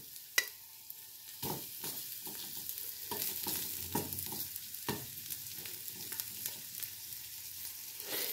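Flour-dusted chicken pieces sizzle in a pan as they brown, a soft steady frying hiss broken by clacks and scrapes of a utensil moving the meat, fairly quiet and close.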